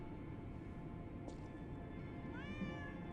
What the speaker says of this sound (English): Oh, I'm picking up the cat!